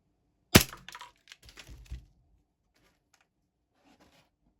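A sharp, loud crack of a toy gun firing a pellet, followed by a few softer rattling impacts, then near silence with faint distant noises.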